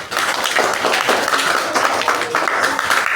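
A school classroom of children applauds a classmate during a maths lesson, a burst of scattered, uneven handclaps that carry on steadily with some voices mixed in.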